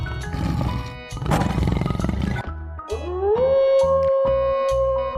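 Tiger roaring: a loud, deep, growling roar builds and rumbles for a couple of seconds, then gives way to a sustained howl-like tone over rhythmic pulsing, close and forceful with no talking.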